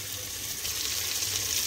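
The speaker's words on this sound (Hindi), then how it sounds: "अब हम इसमें पानी डालेंगे," Hot water poured into a pan of egg and taro (arbi) curry, a steady watery hiss and gurgle with a faint sizzle, continuous and close throughout.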